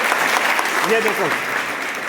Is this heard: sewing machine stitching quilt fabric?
no